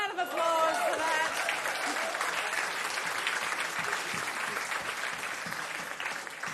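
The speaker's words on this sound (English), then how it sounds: "Round of applause for that." Audience applause at a televised music quiz show, a warm burst of clapping and crowd noise that swells at the start and then holds steady before slowly tapering, with a host's voice briefly over it.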